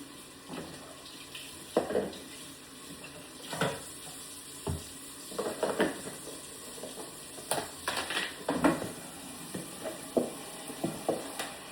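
Food containers are rinsed under a running kitchen tap, with steady faint water hiss broken by irregular clunks, splashes and scrubbing bursts close by, no talk.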